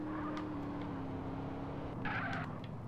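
Engine of a Buffalo sports car in the game GTA San Andreas drones steadily at close range, with a brief tire squeal or skid rising near the end.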